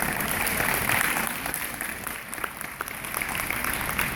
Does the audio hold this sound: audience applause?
yes